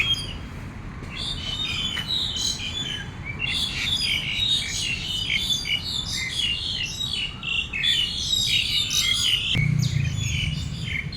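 Many birds chirp and squawk loudly together in a dense, continuous chorus, close by, over a low background hum.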